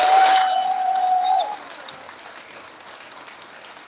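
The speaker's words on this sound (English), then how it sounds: "Yes, let's give him a round of applause." Audience applause at a Haiti relief fundraiser event, a brief burst of clapping that fades after about a second and a half into a quiet room with a few scattered claps.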